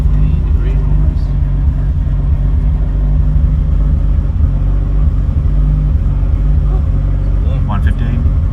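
A single turbo Toyota 2JZ engine idling, a steady low rumble that holds even throughout, with people talking faintly over it.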